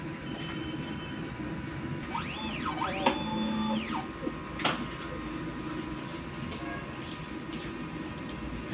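A printer running a head cleaning cycle, with whirring and rising and falling mechanical tones from the moving carriage, plus a few sharp clicks over steady background noise.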